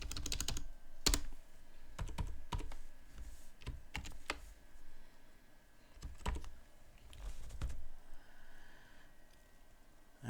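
Scattered keystrokes on a computer keyboard, a few sharp clicks and short clusters of taps spread out over a quiet background hum.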